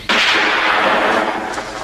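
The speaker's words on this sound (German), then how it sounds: "Schüsse hören sich von da und da genau gleich an" Gunshot in a 1978 German crime radio drama: a single loud, sharp blast that erupts abruptly and rings out in a long, noisy decay lasting nearly two seconds, with no voices.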